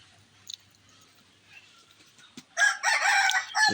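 A rooster crows loudly and nearby in a village beside a pond, one long crow bursting in near the end after a few faint clucks and rustles.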